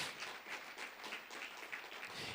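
A church congregation claps during a sermon, faint and distant, with the claps falling in a fairly regular rhythm for a couple of seconds.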